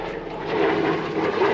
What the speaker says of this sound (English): Another plane.